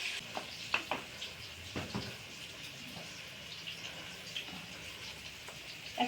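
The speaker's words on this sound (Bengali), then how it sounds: "তো এবার মাংসটা রান্না করব।" Meat cooks in a pan, a soft, steady sizzle with scattered faint clicks and scrapes of stirring, fairly quiet and continuous with no talking.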